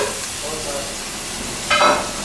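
A New York strip steak sizzling in a pan, a soft steady frying hiss with a brief louder burst of spitting near the end; no talk heard.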